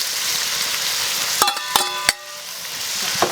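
Beef and water bamboo stir-frying in a wok: a loud steady sizzle with several sharp metallic clanks of a spatula against the pan midway, close up and without voices.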